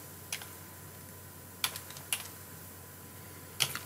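A handful of sparse, faint keystrokes on a computer keyboard, heard as single isolated clicks spread over a few seconds against a quiet room hum.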